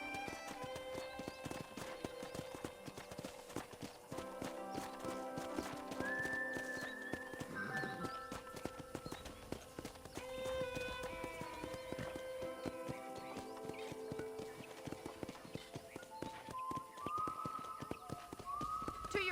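Horse hooves clip-clop steadily in the video game Red Dead Redemption, a continuous rhythmic trot heard fairly faintly with occasional neighs and musical tones over the top.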